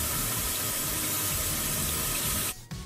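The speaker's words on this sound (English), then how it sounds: "Turn on the hot water at a faucet to bleed the air from the water lines. Let it run until flowing normally." Hot water gushing steadily from a faucet after a 2020 Rheem gas water heater's control valve replacement, a loud continuous broadband rush of flow with air in the lines, abruptly dropping off near the end before resuming.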